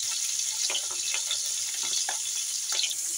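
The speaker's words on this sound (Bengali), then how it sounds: "মাছটা আমি একে একে ভেজে নেবো সব" Fish pieces rubbed with salt and turmeric frying one by one in hot oil in a wok, a steady close hiss with scattered sharp crackles and pops, no voices.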